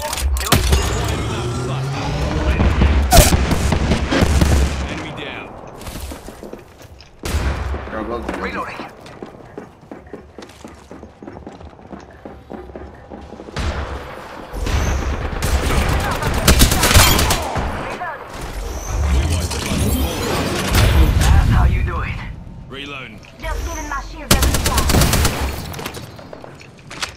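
Bursts of automatic and single gunfire in the video game Apex Legends recur across the stretch alongside game announcer lines and footsteps, with a player talking over much of it.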